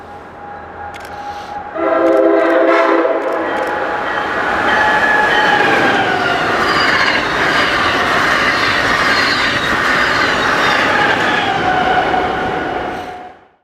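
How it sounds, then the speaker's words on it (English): CapMetro commuter rail train in Austin, Texas, running on its tracks: a steady, loud rumble of wheels and carriage noise with a brief horn-like tone near the start, continuous until it fades at the end. "Let's explore the small commuter rail line in the capital of the Lone Star State."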